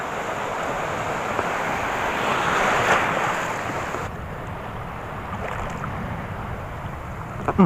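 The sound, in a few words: large ocean waves while fishing from a boat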